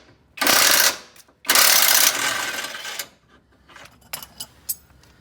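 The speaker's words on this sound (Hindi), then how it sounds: "इसलिए अब हम रैचेट से ही, इम्पैक्ट रेंच से ही इसको खोल लेते हैं सारे को।" Impact wrench loosening the control arm bolts on a 2007 Honda Civic Sport Reborn during a left control arm bush replacement: two loud, sustained bursts of whirring hammering, then several shorter, fainter rattling blips, with no talking.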